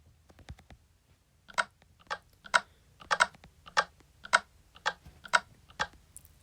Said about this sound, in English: That's just pressure plates and fences I used as the tables.